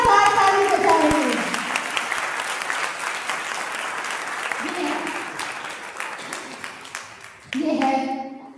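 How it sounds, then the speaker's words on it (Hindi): A church prayer congregation breaks into loud, sustained applause, a dense wash of many hands clapping that fades down under a preacher's voice before swelling briefly again at the end. "इस खुदा के अजीम कलाम के लिए जोरदार ताली बजाएंगे।"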